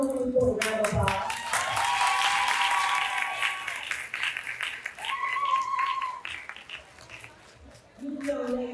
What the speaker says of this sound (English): Let's give our homecoming for a round of applause.